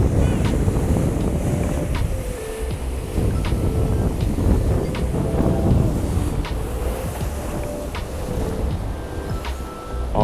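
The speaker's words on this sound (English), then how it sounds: "listen to these loud waves" Loud waves crash and wash against the snowy, icy rocks of the Lake Ontario shore on a winter day, a constant rolling roar mixed with gusts of wind buffeting the microphone.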